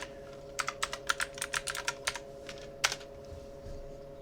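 Someone types a password on a computer keyboard to log into a Raspberry Pi, a quick run of about a dozen crisp key clicks followed by a couple of isolated taps over a steady electrical hum.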